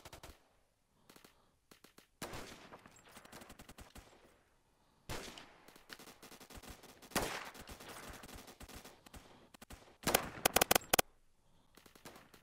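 Video game shooter gunfire: bursts of rapid automatic shots come in several clusters separated by short pauses, loud and close, with a final dense burst near the end.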